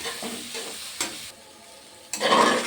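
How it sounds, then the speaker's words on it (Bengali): Potol dolma stuffing being stirred with tomato sauce in a pan, close and moderately loud: scraping strokes over a soft sizzle, one sharp clack near the middle, then a brief lull before a louder burst of sizzling and scraping. "এইবারে আমি একটু টমেটম সস দিয়ে দিলাম দিয়ে এটা সুন্দর করে নাড়াচাড়া করে নিচ্ছি"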